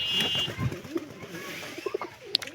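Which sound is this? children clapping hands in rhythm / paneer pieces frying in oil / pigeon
pigeon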